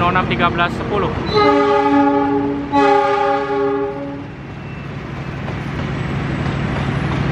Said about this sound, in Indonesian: Jayakarta melintas langsung jalur 7